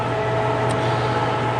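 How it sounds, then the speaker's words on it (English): A lathe machining steam engine parts in a workshop, giving a steady, continuous mechanical hum with a constant tone that holds level and close throughout the short stretch. "working on some steam engine stuff on the lathe"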